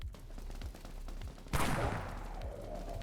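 A single loud blast from the Pierce Shot gun in the Dead Frontier video game, a sharp close report with a lingering noisy tail, preceded by faint in-game sounds.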